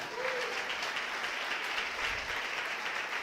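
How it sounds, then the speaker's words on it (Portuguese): A church congregation applauds in a steady, moderately distant burst of clapping. "você pode aplaudir o Senhor."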